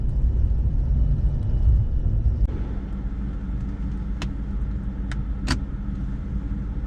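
Low, steady engine rumble from a manual-converted Maserati Quattroporte V being driven, a continuous drone with a slight shift partway through and a few faint clicks on top, no talk.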